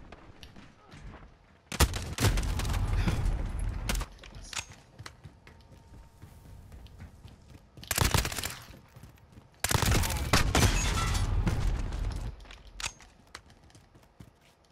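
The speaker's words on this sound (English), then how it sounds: "Got a sentry gun on station." Automated sentry gun fire in the video game Call of Duty: Modern Warfare; several loud sustained bursts of rapid gunfire separated by quieter stretches of battlefield noise and sporadic single shots, with occasional radio chatter in the mix.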